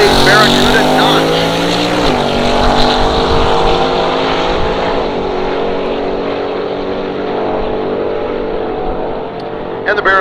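A 1957 Chevy Bel Air and a 1968 Barracuda roar down a drag strip at a hot rod drag event, loud engines rising in pitch and then fading as they pull away, with a commentator talking over them.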